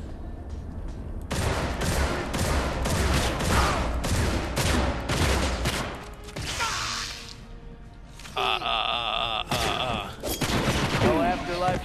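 Rapid shotgun blasts and other gunfire from the video game Dark Athena, a dense burst of loud repeated shots followed by a lull and further crashing impacts, with a player's voice talking over the action.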